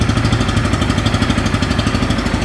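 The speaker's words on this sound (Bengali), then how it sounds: "বাইকটা কিন্তু স্টার্ট করা হয়েছে আর আপনার ইঞ্জিনের সাউন্ডটা শুনতে পাচ্ছেন আশা করি।" A 2024 Bajaj Pulsar N160 motorcycle idles up close with a loud, steady, rapid low thumping beat throughout, no voices.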